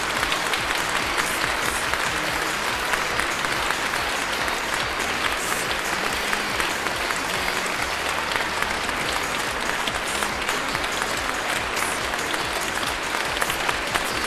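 Sustained applause from an audience at the Miss Western Ukraine Bukovina OPEN 2010 beauty pageant, honoring the second vice-miss; dense, steady clapping fills the whole stretch with no pauses.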